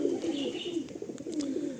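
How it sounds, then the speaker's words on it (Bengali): Black pigeons cooing in soft, low, continuous murmurs at close range, with a few faint chirps overhead and no voices. "এই কালো পায়রার কোনো কিন্তু লুক নেই বাট এ পায়রা এত ওড়ে"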